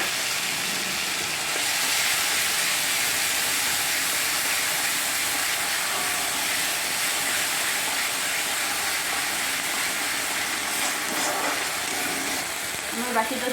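A paste of ginger, garlic, onion and green chili hits hot oil in a pan for a rohu fish dish, giving a loud, close, steady sizzling hiss that holds unbroken throughout.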